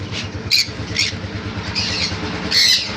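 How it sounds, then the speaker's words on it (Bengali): Yellow-sided conures squawk in loud, sharp bursts, several distinct calls over a steady background hum, close by with no talking. "এখানে আছে ইয়েলো সাইড কনুর"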